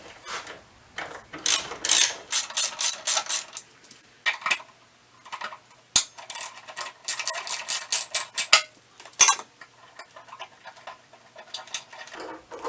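A ratchet clicks in quick bursts while loosening the gas tank bolts on a Kawasaki Vulcan 800 motorcycle, with pauses and a couple of sharp knocks in between, close and without talk.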